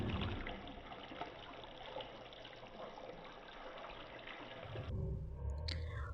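Water poured into a cooking pot over sautéed ginger garlic paste, a steady, fairly loud rushing pour that lasts about five seconds and then stops abruptly, leaving quieter low rumbling.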